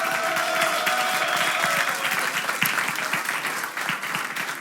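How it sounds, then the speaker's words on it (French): A theatre audience applauds steadily, dense clapping filling the whole stretch at a moderate distance. "On peut les applaudir bien fort."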